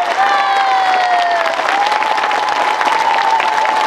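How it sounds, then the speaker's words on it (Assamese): A crowd at an Assam BTC election rally for the BJP gives long, sustained applause with scattered cheering and a few whistles, steady and loud throughout with no break. "ৰাইজ দীঘলীয়া হাত চাপৰি"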